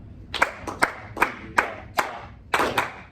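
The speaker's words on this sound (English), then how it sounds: "So let's clap and say just this last measure." Students in a music class clap a rhythm together, about nine sharp group claps in an uneven pattern with a quick double clap near the end, close and fairly soft in a quiet room.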